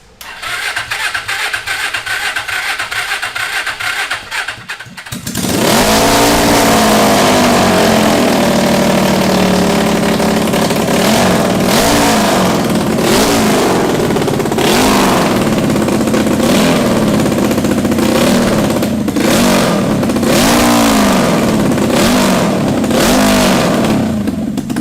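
A Suzuki GS450 motorcycle engine fitted in a lawn mower cranks, then catches and runs loud and close, idling roughly with repeated revs rising and falling for about twenty seconds.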